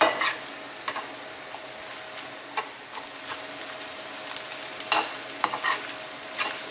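Chicken pieces fry in a pan for a lavash filling, a soft steady sizzle broken by occasional sharp clicks and scrapes of stirring, close and fairly quiet, with no voices.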